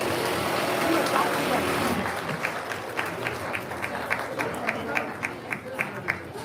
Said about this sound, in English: let's give them a big round of applause as they head back